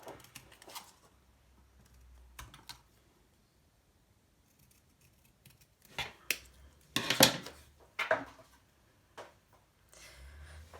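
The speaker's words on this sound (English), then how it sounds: "leftover cardstock and then cut it out." Scissors cutting leftover cardstock for a shaker frame craft give sparse, quiet snips and rustles, with a few sharper cuts clustered in the second half and long near-silent gaps between them.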